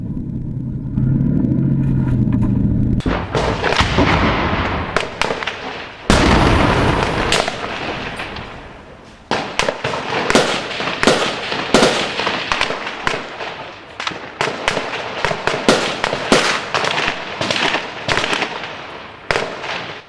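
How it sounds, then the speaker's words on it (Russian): A heavy engine rumble gives way to loud, repeated cannon blasts and rapid bursts of fire from BMP-2 fighting vehicles and tanks during urban combat in Jobar, Syria, booming and echoing irregularly throughout. "по вскрытым огневым точкам наносятся удары из БМП-2 и танков"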